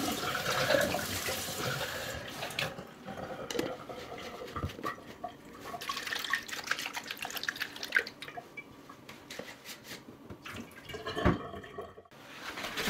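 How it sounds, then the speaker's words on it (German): Citric acid solution is tipped out of a device's vessel, which is then rinsed several times with clear water, giving uneven splashes, trickles and drips with brief quieter pauses, close by. "Am Ende schütte ich die Zitronensäurelösung weg und spüle das Gerät mehrfach mit klarem Wasser."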